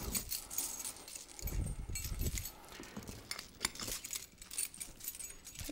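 The chain and metal hooks of a mechanical patient lift jangle and clink continuously at close range, with some soft handling noise underneath.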